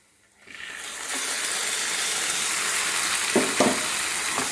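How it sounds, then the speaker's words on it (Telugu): Boiled dal is stirred into a pan of hot tempering, bursting into a loud, steady sizzle after a brief silence, with a couple of short stirring scrapes near the end. "ఇప్పుడు ఈ వాటర్ స్ట్రెయిన్ చేసేసి నేను పప్పు దీంట్లో వేసి ఒకసారి కలుపుతాను."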